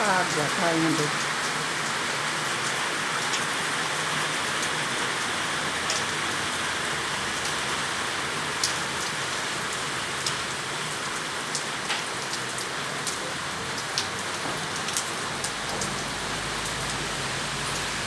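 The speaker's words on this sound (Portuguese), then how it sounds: "Muita chuva, muita água caindo em Santo Antônio de Pádua." Heavy rain pours steadily on surfaces in Santo Antônio de Pádua, Brazil, a dense continuous hiss with scattered sharper drops, close and loud throughout with no talk.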